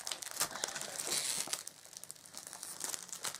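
Plastic packaging around a 12 by 12 craft paper stack of 36 sheets being opened, a close, crisp crinkling and tearing that rustles steadily for a few seconds.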